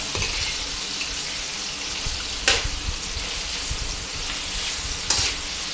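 Pre-boiled pork sizzling and frying in a pan for spicy adobo, a steady loud hiss with occasional stirring scrapes and bursts of crackle.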